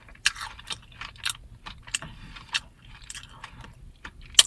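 Loud, close chewing of a Taco Bell cinnamon donut with cream filling, a run of crisp bites and wet smacks spaced irregularly, with no talking.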